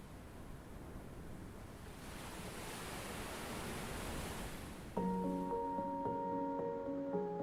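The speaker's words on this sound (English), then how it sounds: "Awesome start with the like sounds of the crashing waves." Crashing ocean waves open a music video as a steady, full surf roar for about five seconds, then music enters over the continuing wash.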